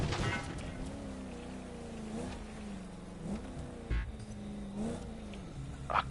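Rally raid vehicle engine in The Crew Motorfest racing game, a steady droning hum that rises and dips in pitch as the car shifts and revs, with brief louder bursts, heard alone without talk.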